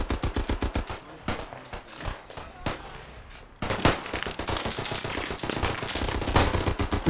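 Rapid, loud bursts of machine gun fire in the war game Beyond The Wire, with a long sustained stream of rounds, a short pause, then another dense volley, and brief voice chatter mixed in.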